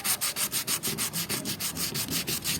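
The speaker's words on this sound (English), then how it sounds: "I'm gonna try begin the sanding process" Hand sanding of a painted wiper cowl from a Honda Civic EG hatchback using 360 grit sandpaper, heard as steady back-and-forth rasping strokes, about five per second, close and even with no talking.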